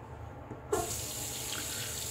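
Tap water starts running onto a shaving brush and soap lather in a bathroom sink, a sudden steady rush of moderate, close water that keeps going to the end, with no voices.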